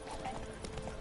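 Horse hooves clip-clop briefly in The Witcher 3 video game, a quick run of muffled hoof strikes under a faint voice.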